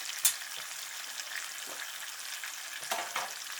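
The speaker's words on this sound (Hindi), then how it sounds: "ये हमारे रेशमी कबाब जो है ना जी वो फ्राई हो रहे हैं।" Chicken reshmi kebabs frying in oil, a faint steady hiss and sizzle with a few light scrapes and taps, quiet and uninterrupted by voices.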